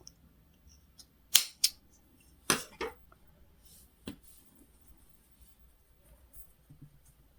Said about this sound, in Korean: 이 실끝은 가위로 잘라서 정리를 해줄게요